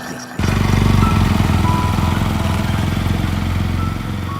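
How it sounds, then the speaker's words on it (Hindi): A loud motorcycle engine drones steadily after a sudden start, holding a rough, throbbing tone throughout; it sounds close rather than distant. "थोड़ी देर बाद दूर से बाइक की आवाज आई।"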